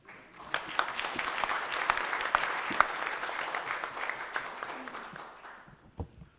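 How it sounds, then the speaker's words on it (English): An audience at a dialogue event on engaging men against gender-based violence applauds in a steady, dense wash of clapping that holds for several seconds, with a few sharper individual claps standing out before it fades. "the applause must be a little more enthusiastic, please."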